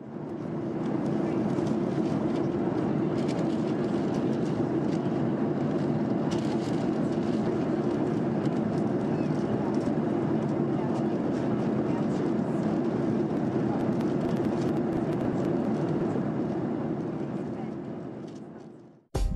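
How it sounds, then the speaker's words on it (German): A constant, heavy roar of jet turbines fills the whole stretch, steady and close, fading out abruptly at the end. "Klar wird die Aufnahme von den lauten Geräuschen der Turbinen dominiert"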